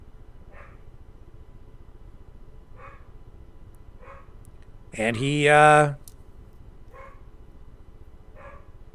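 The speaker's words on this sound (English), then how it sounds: "my dog is barking again." A dog barks faintly a few times from upstairs, distant muffled yips spaced a second or two apart, while someone briefly speaks close by.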